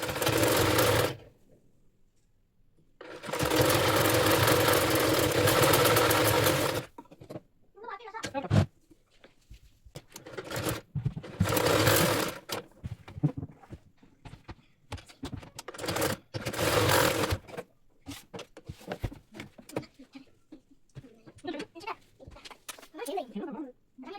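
A sewing machine stitches a blouse in a few loud bursts, several seconds each with pauses between, close up, while someone talks in Hindi during the gaps.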